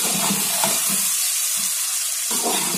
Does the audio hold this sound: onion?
yes